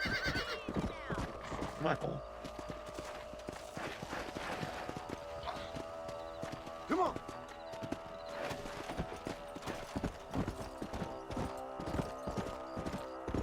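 A horse clip-clopping along in Red Dead Redemption, its hooves beating in uneven rhythm with occasional whinnies, close and fairly loud, while game characters speak briefly over the riding.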